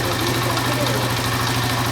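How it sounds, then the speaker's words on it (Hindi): A motorcycle engine, just started by Bluetooth remote control, idles steadily with a low, even throb and rattle, close and continuous throughout. "ये देखें, बाइक बिल्कुल स्टार्ट हो चुकी है।"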